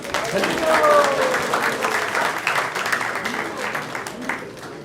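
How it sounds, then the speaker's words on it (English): An audience at a devotional discourse breaks into applause, a broad wash of many hands clapping that swells early and slowly thins out, with a voice speaking over it. "So let's give them a big round of applause"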